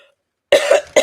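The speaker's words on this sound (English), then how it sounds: "Y'all, I might be coughing from last night." A person coughs twice in quick succession, close and loud, after a brief silence.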